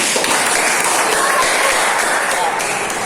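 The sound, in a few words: class applauding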